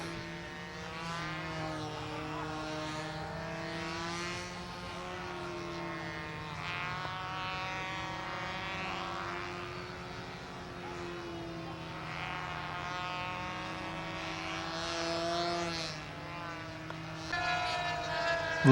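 Small model airplane engines buzz and whine in the distance during pylon racing, rising and falling as they pass repeatedly, a continuous droning hum over open-air ambience.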